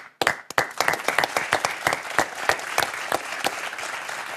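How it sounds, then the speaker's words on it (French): A studio audience at a French television number-and-letter game show breaks into applause that is loud and near. Sharp individual claps stand out at first, then settle into a steady, rhythmic clapping that continues on its own. "Applaudissements."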